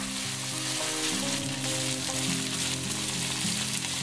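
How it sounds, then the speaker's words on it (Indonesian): Minced meat for tantanmen ramen fries in a pan with chilli and peanut sauce, giving a loud, continuous sizzle and crackle close up with no voices. "Kita masak 4-5 menit hingga dagingnya kering dan tidak basah."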